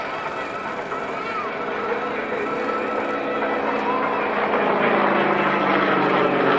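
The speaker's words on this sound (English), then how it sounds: "Now he's just tumbling out of the sky in that spin." Aerobatic propeller aeroplane tumbling in a spin at an airshow, a continuous engine drone at a distance that swells slightly louder, with someone commentating over it throughout.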